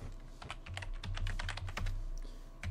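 Typing a chat command on a computer keyboard, a quick run of close, light key clicks in an uneven rhythm over a low steady hum.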